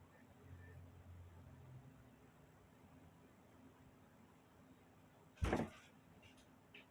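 A chair creaks and shifts with one brief, sharp thump and rustle as a dog climbs out of it, heard once near the end against a quiet room hum.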